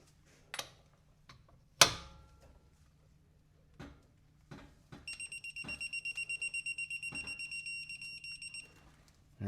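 A generic cordless impact wrench set to its 150 foot-pound mode hammers at a stuck bolt in a fast, steady rattling burst of about four seconds, after a few separate knocks and clanks.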